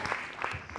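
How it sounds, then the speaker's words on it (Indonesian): A studio audience on a cooking competition show claps for a contestant in a short, dense burst, with a voice talking over it. "Tepuk tangan buat Nelson dulu semua teman-teman"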